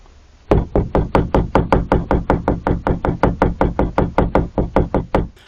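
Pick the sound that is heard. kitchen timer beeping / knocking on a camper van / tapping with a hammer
knocking on a camper van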